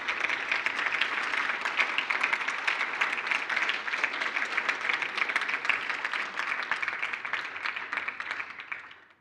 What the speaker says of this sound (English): Okay, that applause,